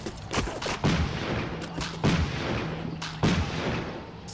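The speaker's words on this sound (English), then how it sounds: "That's the Punisher there firing in semi-automatic." Semi-automatic gunfire from the Punisher in a military video game, four heavy booming shots at a steady spaced rhythm, each with a rolling echo and a low tonal rumble between them.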